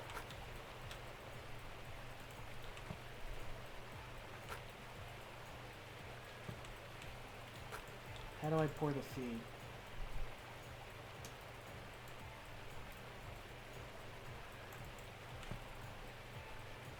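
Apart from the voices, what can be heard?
rain in the video game Gold Mining Simulator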